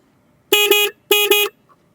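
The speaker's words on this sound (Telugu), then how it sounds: "అండ్ ఇంకా కింద ఇండికేటర్స్ అండ్ హార్న్ ఒకసారి చెక్ చేద్దాం." A 2024 KTM Duke 250 motorcycle horn sounds in two close, loud double beeps. Each beep is a steady, bright electric honk, and the surroundings are quiet.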